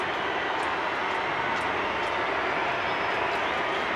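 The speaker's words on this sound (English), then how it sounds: "Now the crowd starting to set up a din" Stadium crowd at the Super Rugby Pacific 2022 final between the Blues and Crusaders, setting up a loud, steady, continuous roar with no breaks throughout.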